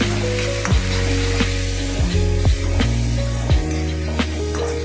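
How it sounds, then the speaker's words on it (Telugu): Ginger garlic paste frying in hot oil for a chicken curry: a loud, steady close-up sizzle with a few scraping stirs of a spoon through the pan. "అల్లం వెల్లుల్లిపాయ పేస్ట్ కూడా ఫ్రై అయిపోయింది"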